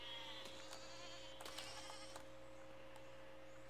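Sheep in the video game Besiege bleat faintly over a steady hum, with a few short, separate bleats and clicks spread through the clip and no talking.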